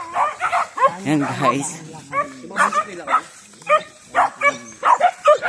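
A dog barks in several short, sharp bursts, mixed with whimpering yips, while a person speaks nearby.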